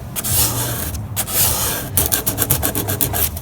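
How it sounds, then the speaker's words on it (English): Coarse grit sandpaper rubs across steam-bent wood in rapid back-and-forth strokes, close and fairly loud, with a quick rhythmic burst of short scrapes toward the end. "the weak spots are being sanded down right now"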